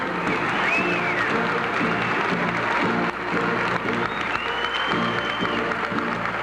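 A crowd applauding President Carter during his visit to Minnesota, with dense, sustained clapping that dips briefly midway, heard from within the crowd, with some voices mixed in.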